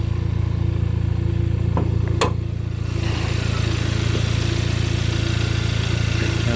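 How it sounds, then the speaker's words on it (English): A Hyundai Sonata with its hood open and an aftermarket intake and throttle body spacer idles with a steady, even engine drone, broken by a couple of brief clicks. "engine intake still going strong, along with the throttle body spacer"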